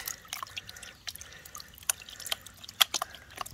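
Water sloshes and drips while heavy hematite sands are washed in a gold pan, faint irregular splashes and trickles close by with no talking.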